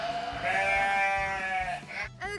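A pregnant ewe on a farm gives a long, loud, wavering bleat close by, followed by a short second call.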